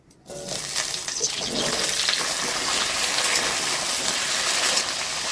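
Potatoes frying in mustard oil in a wok over a gas flame, a loud, continuous hissing sizzle that bursts in suddenly and holds steady throughout.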